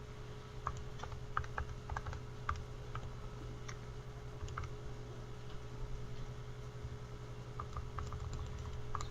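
An equation with a slope and y-intercept is keyed into a calculator, giving faint, scattered plastic key clicks over a steady low hum, with no voices.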